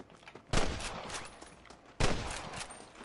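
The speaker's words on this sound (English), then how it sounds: "I can hear more gunshots." Gunfire in Red Dead Redemption, two sharp, loud shots about a second and a half apart, each followed by a ringing, decaying tail over a faint background.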